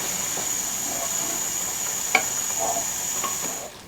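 A tempering of panch phoron in hot oil is poured over mixed winter vegetables for a vegetarian labra and stirred. A steady hiss and sizzle runs throughout, with a single sharp clink partway through and no talking.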